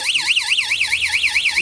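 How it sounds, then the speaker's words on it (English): A coin pusher machine's tilt alarm sounds loud and close, a rapid warbling electronic siren that sweeps up and down in a regular repeating cycle throughout. "that's your alarm right there. So that's how they actually tell if you shake it, that touches the other metal, and that's what sounds the alarm"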